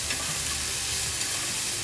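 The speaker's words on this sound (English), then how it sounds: "Mix that lemon around." Preserved lemon being stirred in a hot pan, a steady sizzle and frying hiss with soft scraping of the spoon, close and continuous.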